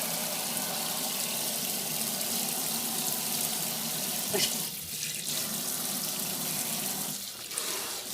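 Water runs steadily from a tap or sprayer, rinsing conditioner out of a Yorkie's coat during a bath, splashing continuously with a couple of brief dips as the flow hits something.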